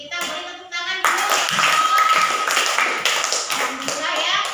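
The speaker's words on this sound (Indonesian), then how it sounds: "kita beri tepuk tangan dulu" A classroom group gives a round of applause after student presentations, with steady, loud clapping from many hands after a short spoken lead-in, continuing for several seconds with faint voices underneath.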